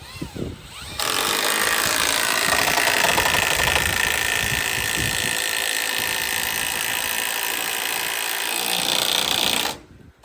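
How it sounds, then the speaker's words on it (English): Power drill pre-drilling holes and driving 8-inch screws into a bridge outdoors, a loud sustained whirring grind lasting most of the span, close by, with a voice briefly at the start. "they have to pre-drill each hole and put in 8-inch screws"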